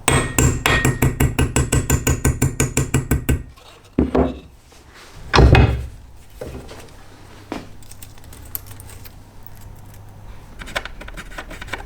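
Loud, rapid hammer blows on a steel floor pan repair panel for a BMW E30, struck about a dozen times in quick succession, then a few heavier isolated strikes and scraping handling noises in a workshop.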